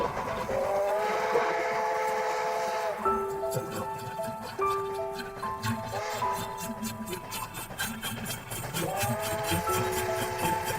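A train sound effect blends a sustained whistle-like tone with rhythmic chugging and clanking that grows more pronounced as the passage continues, steady and fairly loud.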